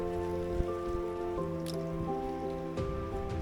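Rain falling over a garden in Costa Rica, a steady soft patter with occasional louder drips and taps close by, and no one speaking.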